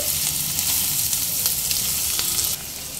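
Ginger, garlic and onion sizzle steadily in a pan over medium-low flame, a continuous close crackling fry with faint stirring scrapes, no voices.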